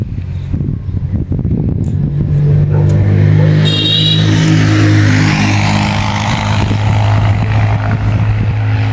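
A motorcycle drives up in a rural yard, its engine note rising and growing louder and nearer before settling into a steady drone, heard alone.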